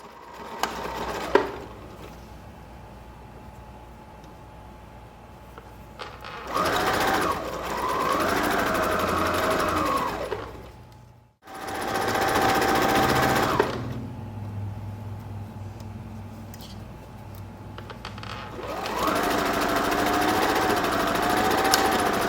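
A sewing machine stitches fabric for a candy corn dress in three separate runs of steady mechanical whirring, each lasting several seconds, with quieter pauses between them.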